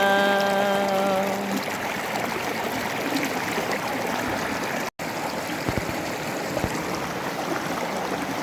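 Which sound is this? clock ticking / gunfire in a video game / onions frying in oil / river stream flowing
river stream flowing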